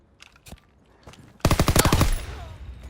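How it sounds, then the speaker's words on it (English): Call of Duty WW2 gunfire: a few faint distant shots, then a sharp, loud burst of rapid automatic fire lasting about half a second, close and alone. "He's a little far away, so I'm gonna shoot at him."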